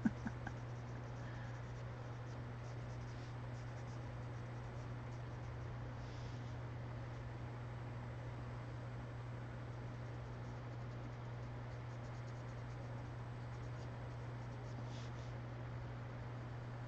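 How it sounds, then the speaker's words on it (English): Colored pencils scratching across paper in an adult coloring book make a faint, steady, continuous rasp with no talking. "Yes, I'm coloring."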